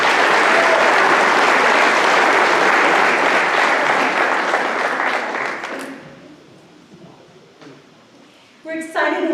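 A crowd at a high school award night applauds a scholarship winner, loud and dense clapping that tapers off after about six seconds, followed by a brief voice near the end.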